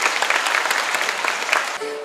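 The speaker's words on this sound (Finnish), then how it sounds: "nyt saa taputtaa ihan valtavasti" Audience applause at a children's concert by the Tutti Orchestra in Heinola, a dense burst of clapping that fills the whole stretch before cutting off abruptly near the end.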